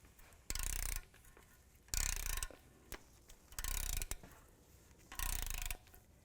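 A torque wrench ratchets on the oil pan bolts of a 2005–2009 Subaru Outback, sounding as four short, quiet clicking bursts spaced about a second apart with pauses between.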